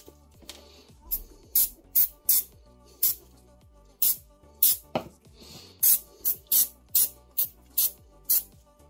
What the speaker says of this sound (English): I will also spray with some silicone spray.